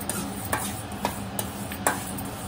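Cumin seeds dry-roast in a hot pan, with a spoon scraping and tapping through brief rhythmic stirring strokes over a faint background sizzle, close and clear.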